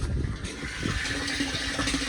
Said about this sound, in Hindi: पानी आ रहा है।